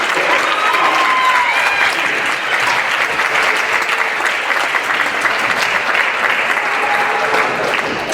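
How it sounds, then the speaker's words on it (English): Loud, sustained applause from a school concert audience at a middle school band and orchestra performance, a dense crowd of clapping hands that continues evenly for the whole stretch with no break. "a round of applause for her."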